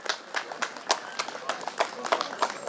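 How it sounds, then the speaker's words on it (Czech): Scattered applause from a crowd at a garden fair cooking and preserves contest, irregular individual claps picking out a loose rhythm, moderately close, with voices talking over them. "zatleskejte všichni."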